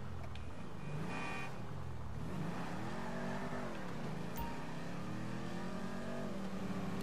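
Car engine revving in Grand Theft Auto V, loud and continuous, the pitch sweeping up and down through repeated accelerations over a steady drone, with no voices.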